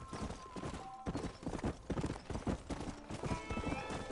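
Horse hooves clip-clop steadily in Red Dead Redemption, a quick repeated rhythm of fairly close, loud hoofbeats, with a whinny also present.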